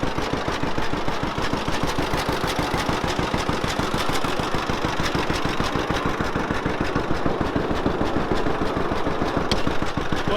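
An old tractor engine idling with a steady, rapid, even chug and a rhythmic low thumping that goes on unbroken and close by, with no voices.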